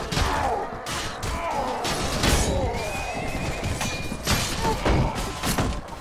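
A horse neighs loudly in the video game Mount & Blade Perisno, its whinny rising over a chaotic battle full of hoofbeats, thuds and crashes.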